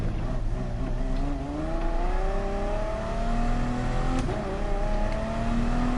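A racing car in Gran Turismo holds a loud continuous engine tone that climbs and shifts in pitch during engine braking and acceleration, steady and close throughout with no pauses.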